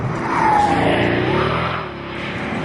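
Mercedes-AMG car engine revving hard and loud from start to finish, a sustained roar with a brief rising whine early on, easing slightly near the end with no talk over it.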